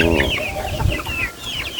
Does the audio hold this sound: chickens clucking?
yes